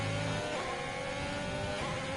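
Renault Formula 1 car engine in the F1 2020 racing game at the Spain Grand Prix, a steady high-pitched whine held at near-constant revs, loud and close for the whole stretch, with no talk over it.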